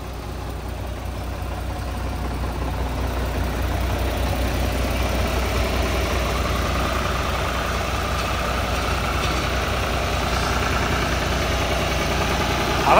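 An old New Holland tractor engine runs steadily after being revived from water damage, a continuous rumbling idle with a faint knocking texture that holds level and close for the whole stretch.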